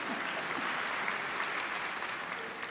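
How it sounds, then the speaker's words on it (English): An audience at the Sydney Opera House applauds with a continuous, even wash of clapping, moderately distant and fairly soft. "I feel like that's a low bar for your applause, but I will take it."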